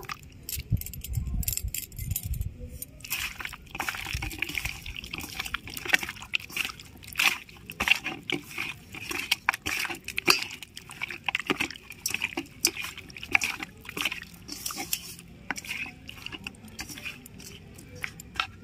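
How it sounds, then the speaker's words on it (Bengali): Raw mutton being mixed by hand with four spoons of sour yogurt in a bowl: soft wet squelching and sloshing with small clinks, close and steady throughout, with no talk. "এবার আমি 4 চামচ টক দই দিয়ে মেখে নেব"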